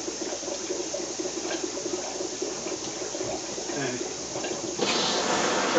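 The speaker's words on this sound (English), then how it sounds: "So now the water is flowing and filling up the sump." Water gushing from an opened valve into an aquarium sump in a fish room, a steady rushing splash that grows louder and brighter near the end, with someone talking over it.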